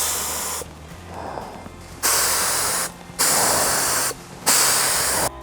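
Spray paint clear coat hisses onto a new bicycle frame in one softer burst followed by three long, loud, close bursts, separated by short pauses.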